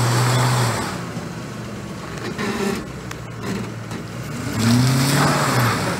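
A vehicle engine revs and labours while stuck in mud on an uphill slope, a rough continuous drone that swells and eases, louder near the start and again toward the end.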